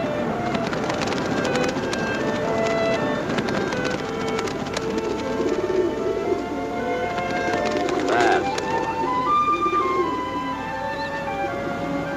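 Pigeons cooing softly amid a busy wartime outdoor scene, low bird calls repeating under background noise and occasional voices.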